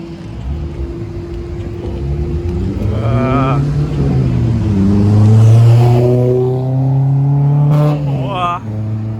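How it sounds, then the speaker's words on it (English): A small Nissan car's engine revs up and holds loud and close on a street in San Jose, Costa Rica, pitch climbing and falling with someone talking over it. "I rev out the little Nissan there."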